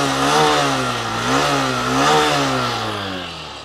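A 2023 Honda Shine 100 motorcycle idles and revs close by, its single-cylinder exhaust note a steady harmonic drone with a few gentle rises and falls in pitch, loud and continuous with no talking.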